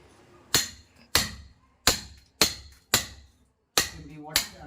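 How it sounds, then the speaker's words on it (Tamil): A hammer strikes material to break it during outdoor plumbing pipeline fitting work, delivering seven sharp, evenly spaced blows, each a crisp close impact with a short ringing decay, separated by quiet gaps. "கையை லூஸ் விட்டு இப்படி அடிக்கணும் சுத்திய."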